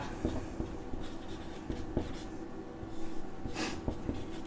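Chalk or pen writing on a board or paper during a Class 9 maths lesson, giving faint scratchy strokes with small taps at irregular intervals, close by with no talking.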